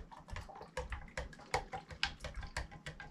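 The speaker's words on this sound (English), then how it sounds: "Stir that up again." A honey and water mixture for mead is stirred in a jug, giving quiet, irregular sloshing and splashing in short bursts, close and faint.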